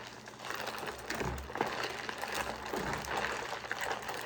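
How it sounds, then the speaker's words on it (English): A strawberry agua fresca mix gets stirred in a container, making a soft, continuous swishing of liquid with faint clinks, steady and fairly quiet, with no one talking. "So I'm just going to give it a stir."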